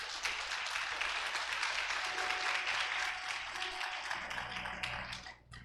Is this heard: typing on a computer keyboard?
no